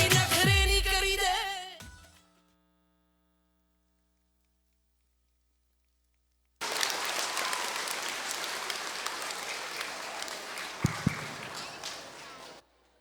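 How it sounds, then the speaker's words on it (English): Live audience applause for performers at a stage show, a dense, steady wash of clapping that starts abruptly after a silent pause and continues evenly at moderate volume, preceded by a brief burst of singing with music. "Can we give a big round of applause to all the performers, please?"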